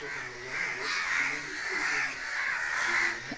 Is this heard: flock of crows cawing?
yes